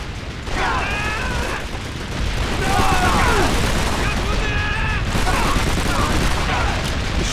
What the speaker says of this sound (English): Hear those AA guns?